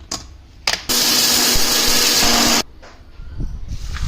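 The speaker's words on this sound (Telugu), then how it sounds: "మెంతులు మిక్సీ వేస్తున్నా" A kitchen mixer grinder grinds fenugreek seeds for mango pickle powder, a loud steady whine lasting almost two seconds that starts and stops abruptly, with brief bumps and handling clatter before and after.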